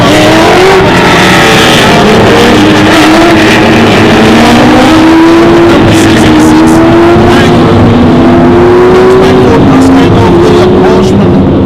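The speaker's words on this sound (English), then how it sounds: "The second of the Kermit green coloured car, slightly darker coloured car, that's Alwyn Bishop in the Plymouth Duster." Australian TransAm race cars, among them a green Plymouth Duster, roar past on a circuit in a loud, continuous V8 drone that rises and falls as the field goes by, with commentary running over it throughout.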